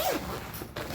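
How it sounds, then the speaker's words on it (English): A zipper on a guitar gig bag is pulled open in one quick, close, rasping stroke, followed by a short second tug. "oh, there's 2 zips at the bottom."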